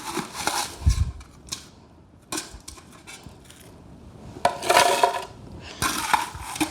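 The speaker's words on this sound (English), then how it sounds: "First, we must add ice to our blender." Ice scooped into a blender for a piña colada clatters in a few sharp, bright bursts spread across several seconds, loud and close, with quieter rattles between them.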